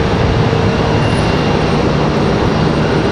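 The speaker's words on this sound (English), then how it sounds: "Air France on final now. Air France 692K. This 777-200" An Air France Boeing 777-200ER on final approach at Raleigh-Durham airport gives a constant, loud broadband engine roar that holds steady for the short stretch, with no talking.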